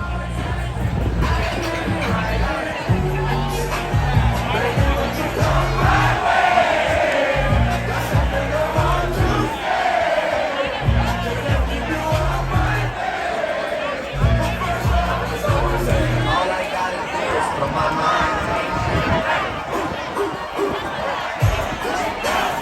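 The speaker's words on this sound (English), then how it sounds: "let's take a quick listen to the party crowd with the live DJ." Party crowd packed around a pool at Coco Cay with a live DJ, pulsing bass-heavy dance music thumping steadily beneath loud crowd chatter, cheers and whoops throughout.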